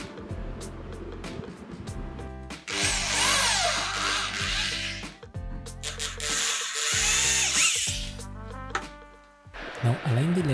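Power drill driving screws into the parts of a DIY 3D printer enclosure, several loud whirring bursts of a few seconds each, separated by short pauses and music.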